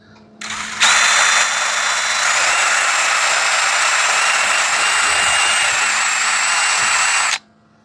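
A wire wheel spins up on a drill and scrubs residue off a Sprinter van roof, a loud continuous high whirring grind that starts abruptly, holds for several seconds, then stops.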